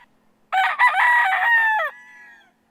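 A Sweater gamefowl rooster in a breeding pen crows once, loud and close, a strong harmonic call of about a second and a half that falls off into a fainter trailing note.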